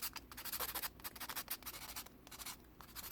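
A nail buffer is rubbed back and forth across a fingernail in quick, rhythmic scratchy strokes, quiet and close, in short bursts with brief pauses.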